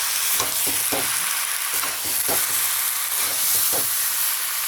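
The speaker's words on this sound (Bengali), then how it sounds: "কাঁচকলা সিমটা দিয়ে নেড়ে চেড়ে" Green banana and beans being stirred in a sizzling pan with spices, a constant hot frying hiss with regular scraping strokes of the spatula close by.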